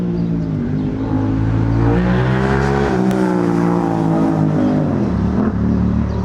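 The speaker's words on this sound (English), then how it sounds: "That's a loud motorbike." A loud engine roars close by, revving and rising in pitch as it passes, with a second engine note overlapping near the end.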